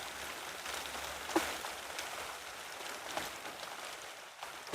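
Steady rain falls on a vegetable and strawberry garden, a soft, even hiss of drops with a few louder nearby splats, heard alone with no talking.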